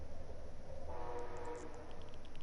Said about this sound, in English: Train's coming, you guys.